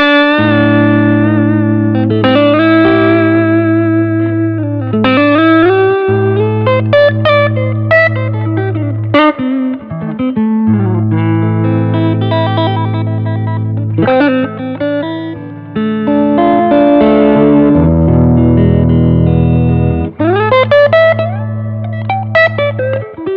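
A Baldacci solidbody electric guitar played on its humbucker pickup through effects with distortion and reverb, sustained chords and melodic lines ringing loud and continuous with short breaks between phrases.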